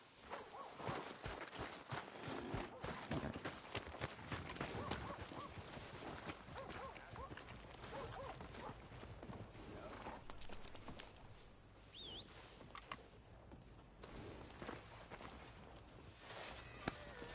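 A horse's hooves clopping at a walk in the Red Dead Redemption 2 video game, a steady, fairly quiet rhythm running throughout, with faint voices nearby.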